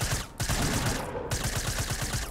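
Rapid gunfire in Fortnite, a fast burst of close, loud shots in a steady rhythm with a brief gap, continuing to the end without talk.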